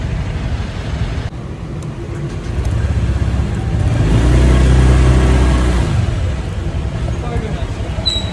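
Cars and motorcycles idle and creep forward in a late-night drive-thru queue, a steady low engine drone that swells into a louder rev midway before settling back, with voices faintly underneath.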